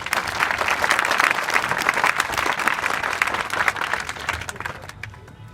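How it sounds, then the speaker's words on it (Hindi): An audience applauds loudly and steadily for about five seconds at a training session, dense clapping that tapers off near the end. "जरा जोर से मारो जरा ताली।"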